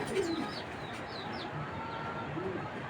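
Belgian-breed racing pigeons give low, soft coos at the start and again near the end, set against steady background noise with a few faint higher chirps.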